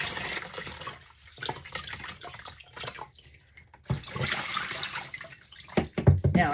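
Cold water sloshing and splashing in a bucket as a wig is rinsed, with bursts of running, gurgling water and quieter pauses between, close by.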